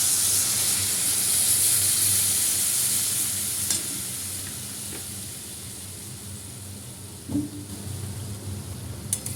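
Curry in a pan sizzles and hisses loudly as water is poured in, the steam-laden fizz easing gradually, with a few clinks and stirring knocks near the end.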